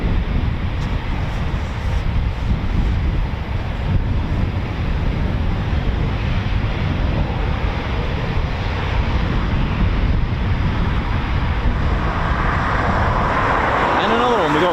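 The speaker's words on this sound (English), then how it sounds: "we got 5 Typhoons taxiing out for departure" Eurofighter Typhoon FGR4 jets taxiing out for departure at RAF Coningsby, a steady loud roar of jet engines throughout, with someone talking over it.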